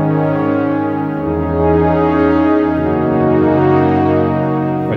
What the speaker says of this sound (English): So that's the sound of the Ensoniq VFX-SD.